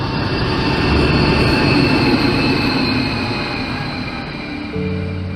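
A train rolls past at a level crossing, a loud, steady rumble of wheels and wagons that holds close and constant throughout, easing slightly near the end with a faint whine.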